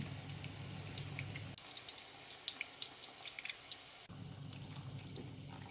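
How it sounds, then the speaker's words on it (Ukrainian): A faint, steady trickle of water poured into a pan runs and splashes, with small drips and bubbling, close and continuous, changing tone slightly partway through. "Додати воду"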